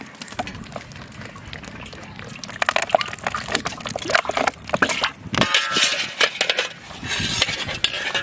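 White cooking oil poured into a pan for frying bata fish in a Bengali village kitchen, a liquid pour mixed with clinking of metal utensils and pots, fairly close, with a brief pause partway through.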